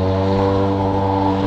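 A steady, loud, low airliner engine roar with a constant droning hum as the plane passes overhead on its landing approach to Congonhas Airport, São Paulo.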